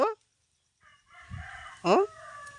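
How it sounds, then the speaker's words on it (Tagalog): A rooster crows twice, loud and close in an outdoor wooded area, with a brief low rustle between the calls and no talking. "Oh, bird naman ah."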